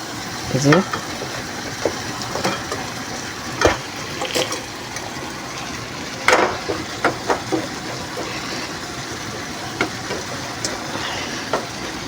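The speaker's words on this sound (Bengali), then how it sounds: "এখন এটাকে ভালোভাবে আমি আর এক আর একটু কষিয়ে নেবো" Steady sizzling of spiced frozen jackfruit curry frying in a pan, with occasional scraping and clinks of stirring, under intermittent speech.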